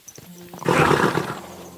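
A horse in Kingdom Come: Deliverance II lets out a single short, rough snorting whinny that swells loudly and then fades, heard alone and close.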